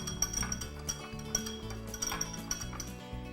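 A whisk clinks rapidly against a bowl while a vinaigrette is mixed, light metallic taps in quick repeated strokes at moderate loudness over a low background hum.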